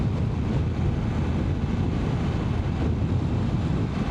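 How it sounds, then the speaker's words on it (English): Steady, loud wind buffeting a microphone during a BMW motorcycle ride near the Erskine Bridge, a dense continuous roar that stays even throughout with no talk. "Alright, it's windy."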